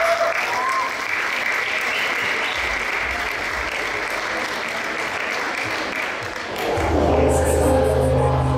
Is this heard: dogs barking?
no